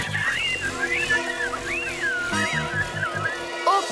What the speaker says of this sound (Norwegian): Jeg har fløyta!